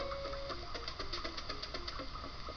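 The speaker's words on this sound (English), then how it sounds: "Grain slides into the crud sucker, aka vacuum cleaner." A vacuum cleaner in the video game Eco Quest 2 sucks up grain with a steady mechanical whir and a quick, regular chugging pulse that runs throughout.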